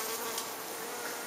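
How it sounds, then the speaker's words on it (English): A dense, steady buzz of insects, bees swarming close outdoors, fills the whole brief moment with no voices. "the bees probably won't let us finish this"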